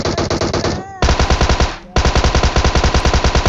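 Automatic gunfire from an online shooter video game, loud bursts of rapid rhythmic shots with a short pause near the one-second mark and another brief dip before firing resumes, no talk over it.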